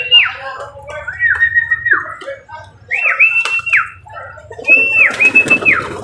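Pigeons coo in several drawn-out, rising-and-falling calls spaced a second or two apart, close by, over a low background hum.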